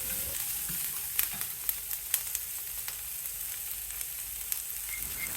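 Large-cut sliced onions sautéing in a pan for paneer butter masala give off a steady soft sizzle with occasional light stirring clicks, fairly quiet and continuous, with no talking.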